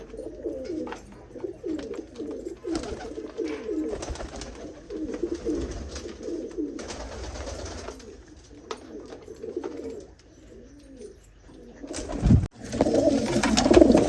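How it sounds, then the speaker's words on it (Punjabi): Pigeons coo steadily in repeated soft, throaty phrases close by, then pause before a burst of louder rustling and cooing near the end. "ਉਹ ਜਿਹੜੇ ਕੁਝ ਕਬੂਤਰ ਜਿਹੜੇ ਸਾਡੇ ਉੱਪਰ ਹੈ"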